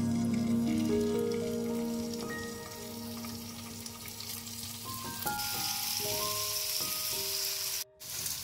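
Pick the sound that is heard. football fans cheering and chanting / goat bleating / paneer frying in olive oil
paneer frying in olive oil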